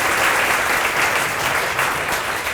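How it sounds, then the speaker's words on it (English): An audience at a women's wellbeing panel applauds for a colleague, steady dense clapping that stays loud and even for a couple of seconds. "Can we have a round of applause for Claire as well?"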